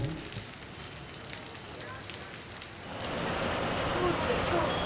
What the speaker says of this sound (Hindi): तो अभी बारिश चालू हो गई